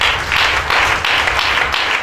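A church congregation claps and applauds together, a dense, steady wash of hand claps coming in rhythmic surges over about two seconds, loud and close, with no voices standing out.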